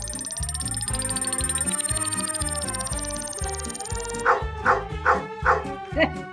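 A dog's bark stands in for a quiz buzzer: about five sharp, evenly spaced woofs ring out near the end, following a stretch of steady background music.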